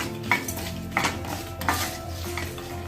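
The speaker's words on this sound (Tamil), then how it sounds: "புளி, பெருங்காயத்தூள் எல்லாத்தையுமே சேர்த்து 1 நிமிஷம் இதை வதக்கிடலாம்." Dried red chillies, urad dal, tamarind and asafoetida are fried in a pan for ridge gourd chutney: a steady close sizzle with a few spoon-stirring scrapes, three or four knocks against the pan.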